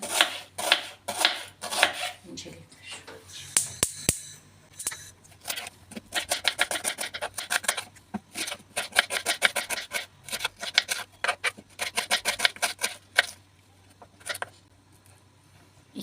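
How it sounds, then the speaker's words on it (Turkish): A knife chops onions quickly on a cutting board in bursts of rapid, crisp taps, with scraping and rubbing between runs, close by and without speech. "ben 2 adet soğan doğrayacağım inşallah"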